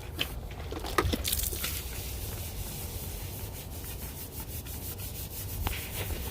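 A woolly wheel brush scrubs a Camaro SS wheel to break up brake dust. It makes a close, continuous rough rubbing and swishing with a few sharper scrapes, and no one talks.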